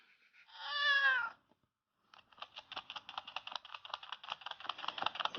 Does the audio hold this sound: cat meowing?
yes